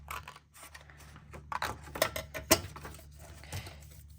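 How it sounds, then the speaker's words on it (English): Scissors snip through tissue paper while side pieces are trimmed from a handmade coin envelope. The soft cuts and paper rustles come in irregular, close bursts, with one sharper snip standing out. "We're just going to cut off the two side pieces."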